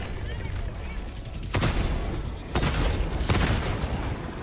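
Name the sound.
orbital strike explosions in video game Helldivers 2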